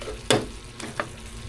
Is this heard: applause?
no